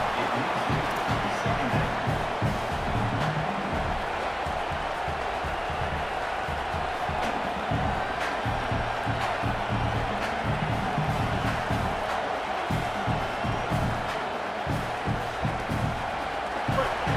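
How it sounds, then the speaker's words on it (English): A stadium crowd in a college football video game, NC State at UCLA, keeps up a loud, continuous roar and cheering with bursts of whooping, while a commentator's voice runs on top of it throughout. "this crowd is turning it up a notch"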